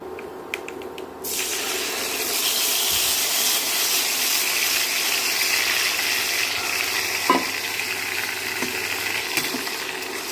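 Coriander leaves fry with mustard seeds, urad dal and cashews in a pan, a steady close sizzle with occasional scraping from stirring, starting after a short burst of crackling.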